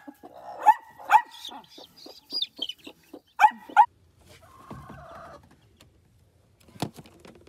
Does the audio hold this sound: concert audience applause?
no